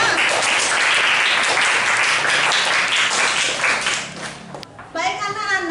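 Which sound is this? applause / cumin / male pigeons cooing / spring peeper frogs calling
applause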